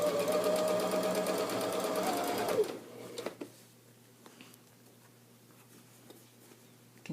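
A sewing machine stitches fabric for a welted pillow cover in a fast, steady mechanical whir that stops partway, followed by quiet handling clicks and light rustles.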